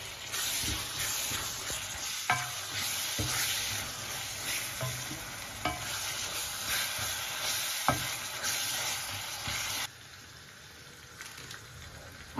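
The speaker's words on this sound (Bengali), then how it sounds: "আদা রসুনের কাঁচা গন্ধটা চলে যাওয়ার জন্য একটু ভেজে নিব" Ginger and garlic fry in hot oil with a continuous dense sizzle, broken by a few sharp clicks of stirring, then the sizzle drops to a quieter level near the end.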